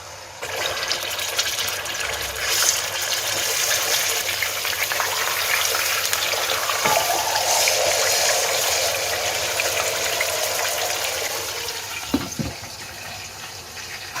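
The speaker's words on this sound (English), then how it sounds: "When it's warm, I put the chicken and fry them well." Chicken pieces frying in warm oil in a pot make a continuous, even hiss, close and fairly loud, with a couple of brief clatters near the end.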